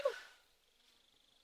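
A single short, sharp sneeze at the start, fairly close, trailing off into a quiet faint hiss with nothing else.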